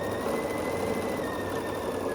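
A sewing machine stitches quilt blocks together along a quarter-inch seam, a steady close whirring hum with a fast, even needle rhythm throughout.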